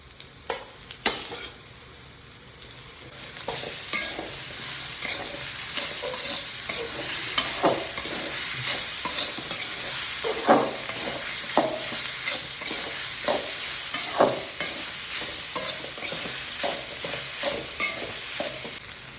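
Boiled goat blood stir-fried with onions in a pan, a steady sizzle broken by frequent sharp scraping and tapping of a spatula against the metal, close and prominent with no talking.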